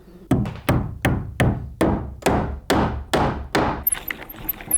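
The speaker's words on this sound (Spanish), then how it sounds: "Aguantar con el martillo para remachar" Hammer blows riveting nail points on a handmade wooden cart box, nine evenly spaced sharp ringing strikes close by, each with a short resonant decay, followed by faint light tapping.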